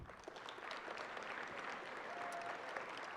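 A board of education meeting audience applauds the 2020 Teacher of the Year, a steady, fairly quiet patter of clapping that holds evenly throughout and fades slightly at the end.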